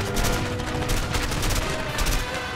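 Continuous SMG gunfire in the video game A Way Out, a dense unbroken rattle of rapid shots that stays loud and steady from start to finish.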